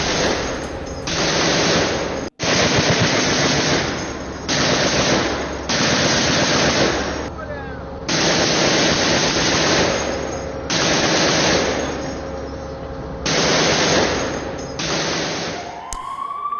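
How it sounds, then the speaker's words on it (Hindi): M2 heavy machine gun fired by soldiers in training at distant targets, loud sustained automatic bursts several seconds long separated by short pauses, repeating about six times. "यूक्रेनी सैनिकों ने M2 मशीन गन के साथ ट्रेनिंग ली है। मशीन गन से दूर के टारगेट को हिट किया गया,"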